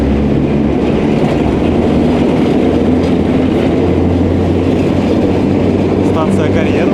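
Industrial railway wagons at a magnesite works rolling past close and loud, with continuous rumble and rhythmic clickety-clack of wheels over rail joints.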